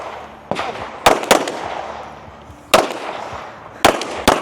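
Sharp rifle shots ring out one by one in a biathlon-style firing sequence at a regional elite stage competition, with several loud, distinct cracks spaced irregularly over steady background noise.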